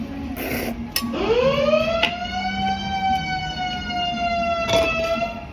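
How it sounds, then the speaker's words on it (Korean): A siren-like alarm wails steadily in a restaurant, its pitch swooping up and then holding in a long continuous tone, with a few sharp knocks and clatters mixed in. "경보가 울렸습니다."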